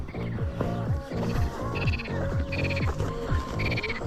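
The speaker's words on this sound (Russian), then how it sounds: "Жабы вон кварчат." Frogs croaking at a pond after rain in Crimea, a dense rhythmic chorus of repeated croaks close by, with brighter higher calls joining in bursts, loud and steady with no talk.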